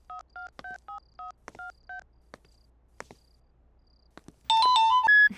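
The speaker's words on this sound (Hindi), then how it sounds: "सिमरन को फोन करता हूँ।" Telephone keypad tones beep in a quick series of short two-tone presses during a call, then a louder electronic ringback tone follows, faint and clean against near silence.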